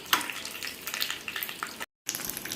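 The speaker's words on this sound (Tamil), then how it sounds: "இங்கே பாருங்கள், வெறியும் கருவேப்பிலை மட்டும் நல்லா பொரிச்சினோடனே நம்ம குழம்புல தூக்கி ஊற்றிக்கலாம்" Curry leaves crackling in hot oil for a chicken curry tempering, a dense close sizzle with a brief gap where it cuts off before the frying resumes, no voices.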